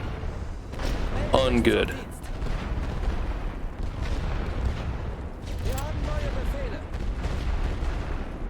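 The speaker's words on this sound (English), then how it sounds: "There's that rifle fire." Rifle fire crackles through a World War I battlefield scene in The Great War: Western Front, with scattered shots and booms under a steady din of battle noise while someone talks over it.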